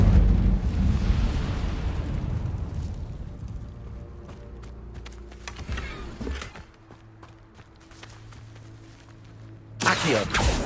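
An Incendio fire spell in Hogwarts Legacy erupts with a loud roaring whoosh that slowly fades, followed by quieter crackles and a second fiery burst near the end.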